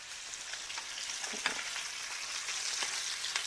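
Beef fillets frying in a pan near the end of cooking, a soft, steady hiss of fat with a few faint crackles and light knocks, quiet and without voices.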